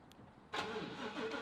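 A Ford Raptor pickup's engine cranks briefly and catches after sitting unused for a couple of weeks, then settles into a steady idle, heard close by and alone.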